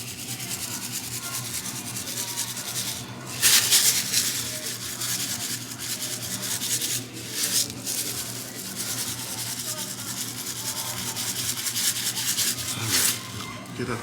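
Coarse salt and pepper are rubbed by hand onto a round tip roast, giving a steady dry scraping rub that swells in a few louder bursts, close and clear without talk.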